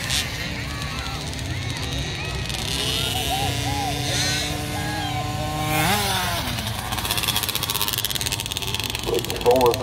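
A Husqvarna motocross dirt bike passes at a race in Canton, North Carolina, its engine rising and swelling under a continuous announcer's voice, with a rev spike near the middle as it goes by.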